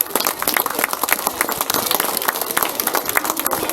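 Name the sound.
students applauding themselves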